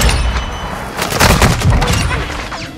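New shotgun fired at long range in a Call of Duty match, with loud dense blasts and booming shots packed into a few seconds of continuous combat noise, close and punchy with little talk.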